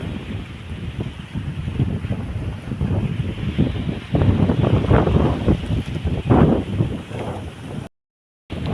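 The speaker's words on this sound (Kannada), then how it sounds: "ಒಳ್ಳೆ ಗಾಳಿ ಬರ್ತದೆ ಇಲ್ಲಿ" Strong wind buffets the microphone in loud, rumbling gusts that swell and fade, with a short dropout near the end.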